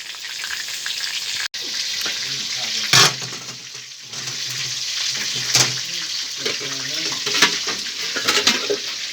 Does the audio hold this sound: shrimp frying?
yes